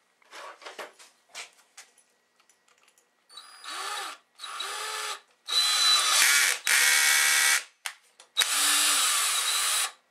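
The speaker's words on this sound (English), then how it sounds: "Now I set my clutch on my handy dandy Craftsman drill driver to 19 on the scale." A Craftsman drill driver, clutch set to 19, drives a T-nut into wood. After a few light taps it runs in several loud, close whirring bursts of one to two seconds each, separated by short pauses.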